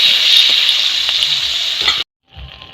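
Slit green chillies and tomato hit hot oil with a black cumin tempering, giving a loud, steady sizzle with faint stirring for about two seconds. The sound breaks off into brief silence, then a softer sizzle returns.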